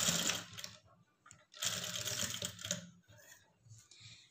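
A sewing machine stitches a blouse lining in a home tailoring lesson, running in two close, loud bursts of rapid stitching separated by a short pause, with quieter intermittent whirring afterward.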